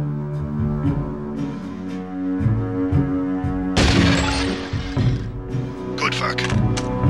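Rifle fire at a training target in the video game Deus Ex, with several sharp cracks and a burst of rapid shots that rise over a steady game music bed, while a voice talks throughout.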